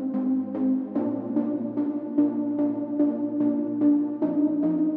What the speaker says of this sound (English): the second one is this saw brass.